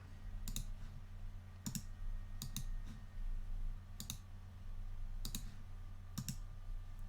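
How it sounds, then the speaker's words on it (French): Computer keyboard keys clicked at a steady pace over a low constant hum, about half a dozen distinct crisp taps spaced roughly a second apart, close and fairly quiet. "On va taper cette commande."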